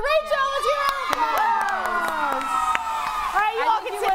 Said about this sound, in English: Ready? Scream it out.